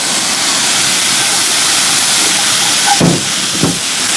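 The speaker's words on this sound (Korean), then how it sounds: "달궈진 후라이팬에 우삼겹 넣어주겠습니다" Sliced beef brisket hits a hot frying pan with a loud, steady, broadband sizzle that hisses continuously throughout, with a couple of brief clinks near the end.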